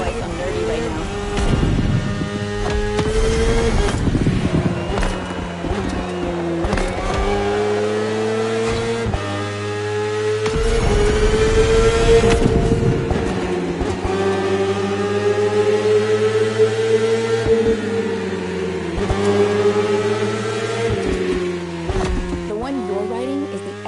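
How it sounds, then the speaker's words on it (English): A 2015 BMW S1000RR superbike engine revs loud and close, its pitch climbing and dropping in repeated surges over about twenty-four seconds with a steady harmonic drone. "Superbikes are extremely powerful, technologically advanced motorcycles that are relatively light for the speed they can reach."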